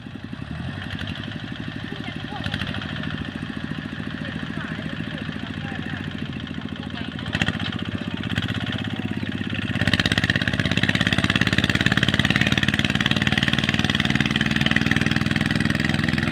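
The original engine of a ZT155 motorized cart runs steadily close by, a rough mid-pitched idle that grows louder and busier partway through, with no talk over it.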